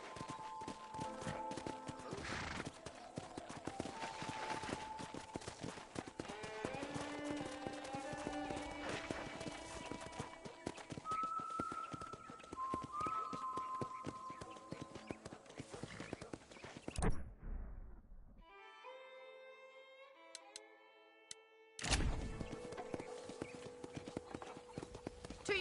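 Horse hooves clip-clop steadily in the Red Dead Redemption video game, a rhythmic walking gait with an occasional whinny. Music and ambient game sounds run underneath, with a brief drop to near silence partway through.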